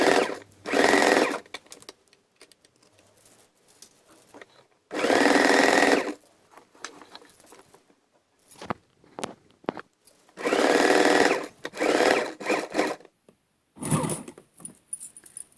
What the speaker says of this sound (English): Starting at the hem, I'm going to stitch up to the marker pin along that gather line.